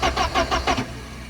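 A Porsche 944 engine cranks over under the starter with four even, rhythmic pulses in close succession, then stops and leaves a low steady hum.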